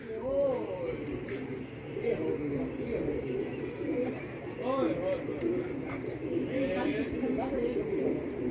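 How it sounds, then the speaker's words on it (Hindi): Fancy pigeons cooing on rooftops, repeated soft warbling coos from several birds close by, under steady background noise and someone talking. "ये कबूतर लड़ गए हैं जी उधर"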